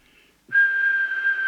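A single steady, high whistle held for about a second, clear and close, whistled into a CB radio microphone as a transmit test, with a faint electronic hum behind it.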